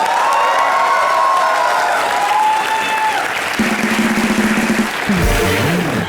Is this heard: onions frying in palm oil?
no